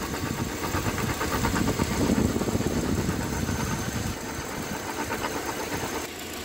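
A car engine idles steadily with the viscous fan clutch drive belt removed, an even mechanical hum and faint rhythmic ticking, no other noise over it.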